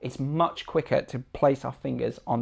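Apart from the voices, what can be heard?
No everyday noises stand out.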